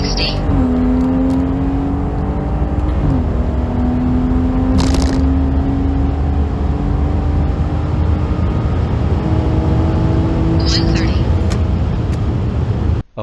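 A BMW 340i with a B58 engine, tuned to Stage 2+, pulls hard from 60 to 130 with a loud sustained engine drone that climbs through gear changes, heard from inside the car with speech picked up over it.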